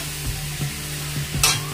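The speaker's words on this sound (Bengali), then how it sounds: "লঙ্কার কালো জিরা দিয়ে বাঁধাকপি ভাজা বসিয়েছি" Cabbage frying with nigella seeds and chili hisses steadily in a pan, with several soft stirring scrapes and a brighter sizzle burst near the end.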